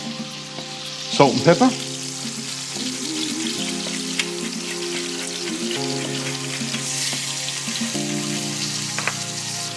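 Lamb tomahawks are laid into hot oil in a pan and sear with a sharp burst of sizzling, then a steady, close frying hiss, while someone speaks briefly.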